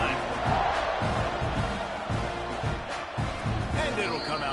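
Football stadium crowd roaring and cheering during a kickoff, a loud, dense, continuous wash of many voices with whoops rising and falling throughout.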